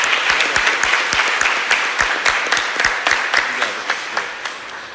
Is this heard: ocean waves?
no